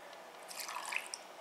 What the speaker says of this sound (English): And I've got a little splash of water here.